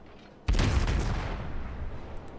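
Naval gunfire from a cruiser in World of Warships, a single loud booming salvo that hits suddenly and then rolls off in a long fading rumble.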